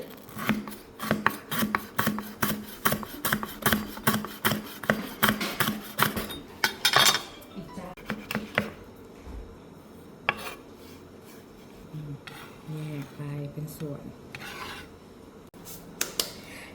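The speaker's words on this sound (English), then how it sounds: "now you can cut the lemongrass small pieces" Rapid rhythmic chopping of lemongrass into small pieces on a board for green curry paste, a steady run of sharp knife strikes that slows into scattered scraping and rubbing.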